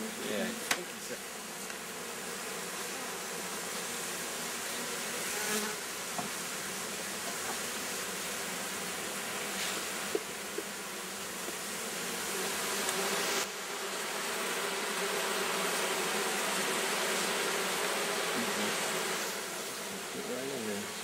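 Four pounds of honey bees swarm and buzz loudly as they are shaken into a hive, a dense, continuous droning hum held close throughout with only small shifts in intensity.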